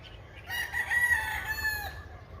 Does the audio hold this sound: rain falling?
no